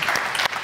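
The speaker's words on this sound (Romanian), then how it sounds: "Doamne și domnilor, aplauze" A game-show studio audience on Roata Norocului claps in a brief, dense burst of applause.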